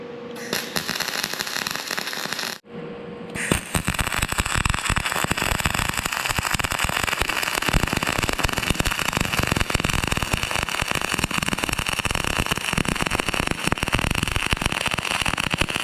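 Gas-shielded flux-core wire welding in a home shop, a steady loud crackling sizzle of the arc that stops briefly near the start, then runs continuously without talk.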